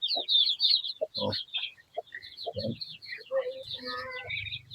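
A Basilan chicken clucks in a rapid, irregular series of short calls close by, with a faint voice talking in the background.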